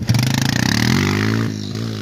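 Quad bike engine at full throttle for a 13-foot jump, a loud, close mid-pitched drone that rises steadily in pitch as it revs, with rattling clatter early on and a brief dip before the roar resumes.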